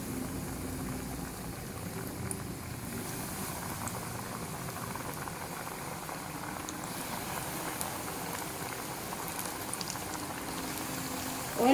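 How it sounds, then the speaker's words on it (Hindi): Chicken pieces frying in hot oil, heard as a continuous close bubbling sizzle, fairly quiet and even throughout with no talk. "अब चिकन फ्राई करना स्टार्ट करते हैं। एक एक पीस डालते जाएंगे।"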